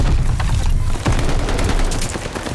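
Dense gunfire from Call of Duty Vanguard, with rapid overlapping shots and booms in a loud, continuous barrage.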